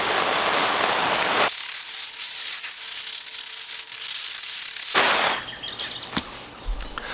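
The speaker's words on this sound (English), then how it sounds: "that was about a 3-minute downpour" Steady hissing of a heavy downpour drumming on an MSR FreeLite 3 tent, close and continuous, easing slightly near the end with a few scattered knocks.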